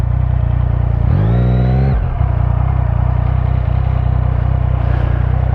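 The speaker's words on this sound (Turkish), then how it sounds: "bekle araba var bekle" A car engine roars loudly and close, rising in a brief revving sweep before settling into a steady, heavy drone that continues throughout with no voices.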